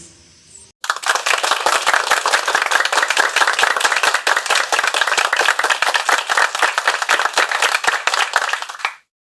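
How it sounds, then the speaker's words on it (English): A crowd at an elementary school graduation ceremony claps in a dense, even burst of applause that starts abruptly after a moment of quiet, stays strong for about eight seconds, then cuts off. "A round of applause, please."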